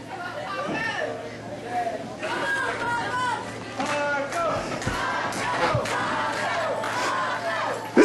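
Wrestling crowd at an AIWF Mid-Atlantic Wrestling show in the Danville, Virginia area, shouting and cheering for wrestler Paco Loco, a steady roar of voices with scattered yells and a ringside commentator talking over it.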